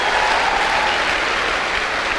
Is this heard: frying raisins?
no